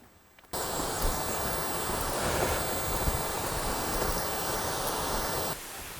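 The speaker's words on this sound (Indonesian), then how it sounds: "di belakang kita udah ada air terjun" First tier of a multi-level jungle waterfall in West Kalimantan, a steady loud roar of falling water that holds evenly throughout, with no voices.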